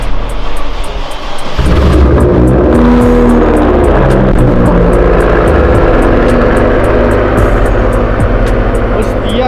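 A loud, tuned 750-horsepower Audi RS6 engine revs and roars up close, rising sharply after a brief lower idle, with a rough, throbbing exhaust note throughout.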